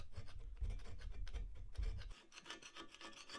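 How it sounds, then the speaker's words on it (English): An old gasket is scraped off a Triumph TR7 engine with repeated gritty rasping strokes, heavy and close at first, then lighter and higher after a brief pause. "And then I'll get this gasket off."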